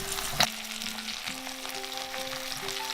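Fish frying in a pot with pork belly fat, dried radish, ginger and garlic for a Chaozhou fish stew, a loud continuous sizzle with a sharp splash-like burst near the start as food goes in, no talking.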